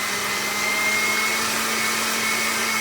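A stand mixer runs steadily while making a hot chocolate cake, giving a continuous, fairly loud whir with a constant motor hum and no talking.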